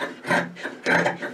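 Scissors snip through fabric while a half-circle skirt is cut out, giving two close, crisp rasping strokes with a short pause between them.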